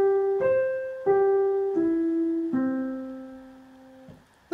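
A musical arpeggio of four clear, bright tones, each struck separately and stepping downward with ringing sustain, played alone at moderate volume.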